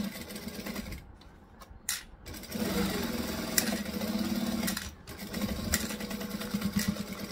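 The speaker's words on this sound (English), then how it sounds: "I'm going to stitch and backstitch" A sewing machine stitches and backstitches seams on a Laney bag by Swoon, its motor running in steady, moderately loud bursts separated by short pauses.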